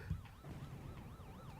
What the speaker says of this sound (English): The old police car, look, that's still doing its thing.